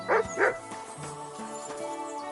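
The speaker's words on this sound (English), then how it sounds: "Barking." A dog barks twice in quick succession in Kingdom Come: Deliverance II, with sharp close yips followed by a quieter whine over the game's background.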